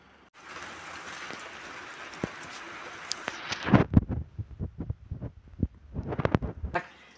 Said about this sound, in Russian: За окном дождь льет.